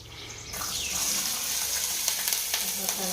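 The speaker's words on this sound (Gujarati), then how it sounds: "ઘી મૂકી દીધું છે. હવે સિંગ નાખી દઈશું." Peanuts dropped into hot ghee start frying with a sudden bright, steady sizzle and crackle, close and continuous after a brief quiet start.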